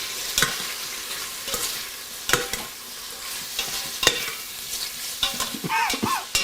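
Sausage browns in an Instant Pot, sizzling softly while a spoon scrapes and knocks through it in several distinct, close stirring strokes, with no talk.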